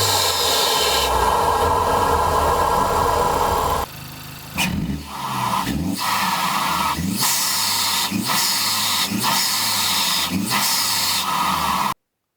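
Honda Civic Type R FL5 engine fitted with a PRL intake, running with a steady loud drone and hiss, then a series of regular rhythmic pulses and whooshes in the second half, with no talking.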